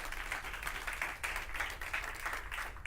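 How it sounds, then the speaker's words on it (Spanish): A church congregation claps together as an offering of praise, a steady wash of many hands applauding, fairly faint and distant, with no talk over it. "Le damos una ofrenda de palmas al Rey en el nombre de Jesús."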